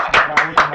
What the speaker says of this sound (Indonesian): Tepuk tangan toh